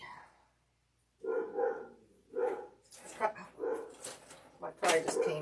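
A dog barks repeatedly indoors somewhat off to the side, several sharp woofs in uneven bursts, with someone talking faintly between them during a dress form sewing session.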